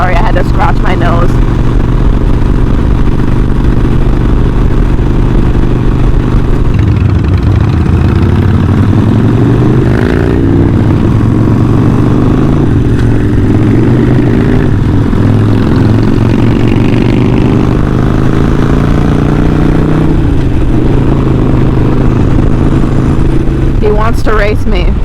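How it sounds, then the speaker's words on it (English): A Harley Davidson motorcycle engine runs continuously and loudly with a low rumbling drone, its pitch rising and shifting as it revs, with no talk over it. "I don't think I would trade the sound of my bike for the sound of some other people's bike"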